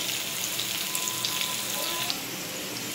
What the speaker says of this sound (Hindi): इसको हिलाते रहना है जिससे अच्छी तरह से ये तेल में पक जाएगी